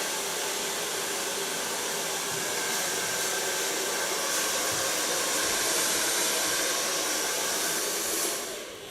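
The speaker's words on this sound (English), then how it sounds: "So if I blow dry" A hair dryer blows steadily and loud at close range while blow-drying ultra-short hair, a constant whooshing hum that holds even for several seconds before easing off at the end.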